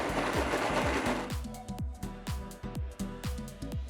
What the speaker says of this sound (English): Now add the remaining sprouted green gram and grind everything together.